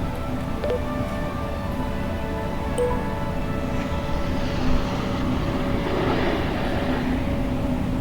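Steady, continuous engine roar of an Airbus A320 airliner taking off from Da Nang in a home-cockpit flight simulator, a constant broadband rumble and whine that swells slightly near the end, with no talk.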